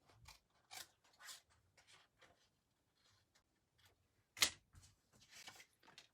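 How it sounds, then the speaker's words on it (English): Scissors snip through paper to make paper grass: quiet, crisp cuts and rustles come in small irregular bursts, close by, with one sharper snip near the end. "all I did was I took some scissors and just,"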